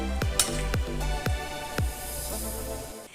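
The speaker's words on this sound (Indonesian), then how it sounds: "ini sudah mendidih" Chicken feet soup at a boil in a cooking pot gives a steady bubbling hiss, broken by several sharp metallic clinks in an irregular rhythm, close and moderately loud with no speech.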